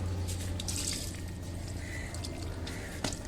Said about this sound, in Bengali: পানিগুলো ফেলে দিলাম নাহলে গাছ নষ্ট হয়ে যাবে